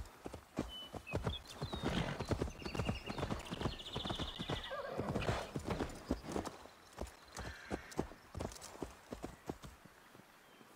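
A horse in Assassin's Creed Valhalla clip-clops along in a steady rhythm of hoofbeats, whinnying partway through, fairly close and clear over a quiet game backdrop.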